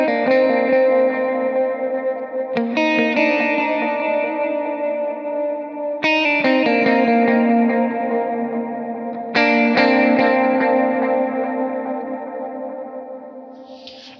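An electric guitar plays a lead run through effects with chorus, distortion and echo, sustained notes struck in a few distinct phrases, each ringing out with a long, shimmering tail.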